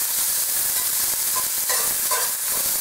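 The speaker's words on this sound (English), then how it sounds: "I can easily scrape the bottom of the cast iron" A whisk scrapes across the bottom of a cast iron pan as cream sauce for smothered pork chops cooks, with steady frying sizzle and a few soft scraping strokes near the end, no talking.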